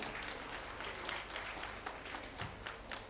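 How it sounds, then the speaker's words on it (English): Faint, distant applause at a school Ruby Jubilee celebration for students, a soft continuous patter of clapping from an audience with no clear voices. "A huge round of applause"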